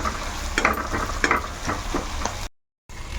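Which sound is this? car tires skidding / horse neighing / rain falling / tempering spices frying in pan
tempering spices frying in pan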